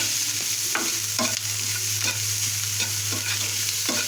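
Onion and salt stirred in a frying pan, a spatula scraping in repeated strokes over a steady close sizzle, with a constant low hum underneath.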